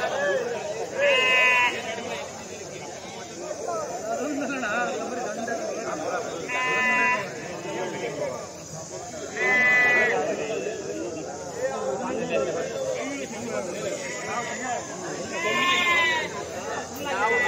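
Sheep and goats bleat in repeated calls at a livestock market in Gauribidanur, with Sindhanur lambs among them. The bleats rise above a steady crowd murmur, and nearby voices talk throughout.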